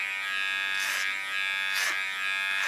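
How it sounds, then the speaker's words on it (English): An electric hair clipper buzzes steadily while cutting short pixie-cut hair, its tone swelling brightly twice as it passes through the hair. "And that I do with the clipper."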